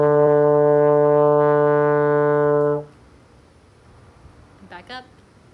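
A trombone sustains a low D in fourth position, one steady, loud harmonic-rich note lasting almost three seconds, then cuts off, leaving quiet room sound and a brief soft voice near the end.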